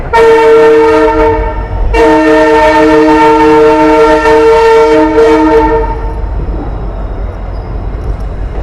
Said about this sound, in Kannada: ಲೋಕೋ ಪೈಲಟ್ ಅವರು ಟ್ರೈನ್ದು ಜೋಶಾಗಿ ಹಾರ್ನ್ ಕಿಂಗ್ ಮಾಡ್ತಾ ಇದ್ದಾರೆ